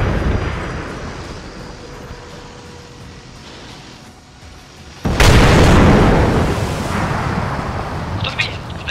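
A sudden loud blast from enemy fire in the video game Arma 3 cuts through a quiet low rumble, then a sustained roaring wash and a few faint distant pops trail after it.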